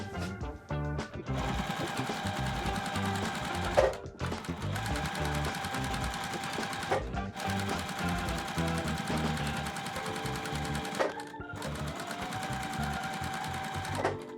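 A sewing machine stitches the final seam joining two quilt block halves, running in loud, rapid bursts broken by brief pauses, close by and with no speech.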